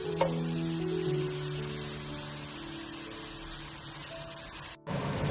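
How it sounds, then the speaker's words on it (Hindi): Masala of turmeric, salt, red chilli and crushed chilli powder sizzles steadily in a pan as it is lightly fried, a continuous close hiss that drops out briefly near the end before resuming. "अब आपने इसको हल्का सा भून लेना है"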